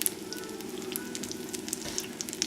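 Risotto cakes with spinach and mushrooms sauté in a pan with a quiet, steady sizzle and faint scattered crackles.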